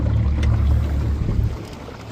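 A small boat's motor runs at a low, steady drone on the water on a maiden voyage, its throttle cutting out intermittently, with the engine level dipping slightly toward the end.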